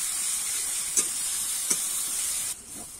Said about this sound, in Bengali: এবারে ভালো করে কিন্তু আমি পেঁয়াজ, রসুন আর লঙ্কাটা ভেজে নেব